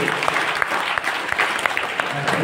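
An audience claps at a spiritual discourse in Kumbakonam, a brisk burst of many hands at close range, steady and fairly loud for a couple of seconds.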